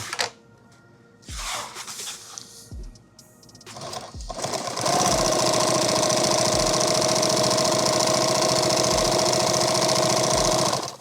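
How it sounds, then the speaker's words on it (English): A sewing machine stitches coated fabric for a magazine war bag, starting with short bursts and pauses, then running in one long, loud, steady mechanical chatter close by. "Now I'm sewing down, I want to hit that same line so that this is a single stitch."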